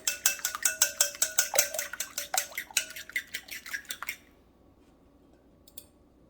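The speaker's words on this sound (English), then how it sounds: "I've got 2 large eggs here in this bowl. We're going to beat those slightly." Two large eggs beaten in a bowl with a utensil, giving a rapid run of sharp, close clinking taps against the bowl for about four seconds, then stopping to near silence.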